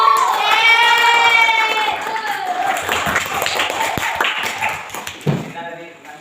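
Schoolchildren in a classroom clap together, starting with a voice and a burst of lively group clapping, then dwindling into scattered claps and chatter.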